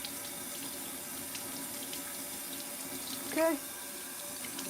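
Tap water running steadily over a game disc into a sink, a close continuous hiss, with one short spoken word partway through.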